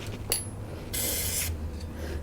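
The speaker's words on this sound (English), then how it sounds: "We're going to get some lubricant on the gear. So spray in here." Lubricant sprays from an aerosol can onto a snowblower shaft and gear in short hissing bursts, one brief spurt then a longer half-second blast, close up amid small mechanical clicks.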